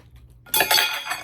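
Utensils clink against a plate or bowl while someone eats Thai som tam papaya salad made with pork and beans, a short burst of close cutlery and dish sounds after a quiet start.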